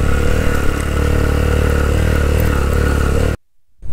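A motorcycle rides up a rough mountain jeep track near Thal Bazar, its engine droning loud and steady for about three seconds before cutting off abruptly into near silence.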